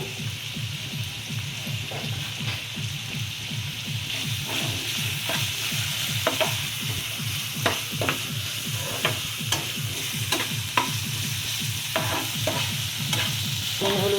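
Potato and egg mixture with salt and turmeric being stirred by hand, making a continuous soft, squelching rhythm of repeated mixing strokes with faint crackles, close and steady.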